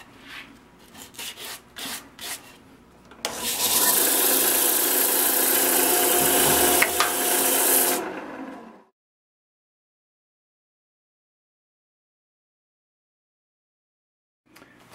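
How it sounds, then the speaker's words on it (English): Sandpaper held against a spinning walnut crotch bowl on a wood lathe makes a loud, steady rasping hiss for several seconds before the lathe stops and everything falls silent. "once I get down to about 120 grit with sanding"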